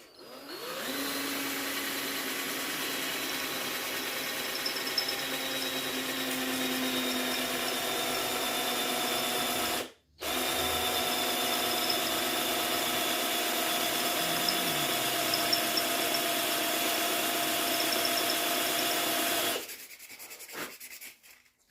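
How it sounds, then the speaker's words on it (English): A power drill bores through a captive nut on a Jaguar XJ40 4.0L, a steady loud whine running nearly unbroken, with a brief stop midway and falling silent near the end. "I'm drilling a smaller hole than the one in there"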